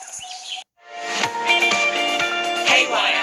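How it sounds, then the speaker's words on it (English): Busy calls and chirps from several Australian bush desert birds fill the air, overlapping in quick bursts with a steady outdoor hiss behind them. "Bush desert birds are making lots of noise."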